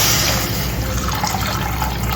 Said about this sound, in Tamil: தண்ணி நான் 1/2 லிட்டர் போட்டு ஊற்றிருக்கேன்.